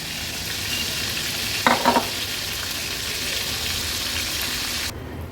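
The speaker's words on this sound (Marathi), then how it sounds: "आता आपण ह्या लसणाच्या पाकळ्या तळून घेणार आहोत" Garlic cloves frying in hot oil for prawns koliwada give a steady, close sizzle throughout, with a few brief stirring clatters in the middle and a sudden drop near the end.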